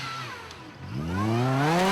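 A Toyota Prado-geared four-cylinder 4x4 trials vehicle winds up its engine, the rising whine climbing steadily and growing louder, heard fairly close without talk.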